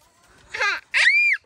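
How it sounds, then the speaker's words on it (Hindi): Goats bleating close by, two short loud calls in a row, the second a higher, wavering cry that trails off, with quiet moments around them. "तो यहाँ कुछ बकरी आई हैं, बिंदा ने बुला लिया सबको।"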